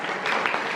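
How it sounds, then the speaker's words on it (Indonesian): A short burst of applause from a school audience at SMU Lokon, dense steady clapping from many hands with no talk over it. "Tepuk tangan buat Rafael."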